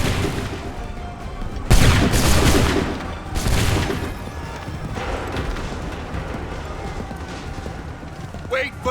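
Musket volleys in Assassin's Creed III battlefield combat: broad crashing bursts of massed gunfire rise out of a noisy scene, a couple of loud volleys followed by lingering rumble and scattered shots.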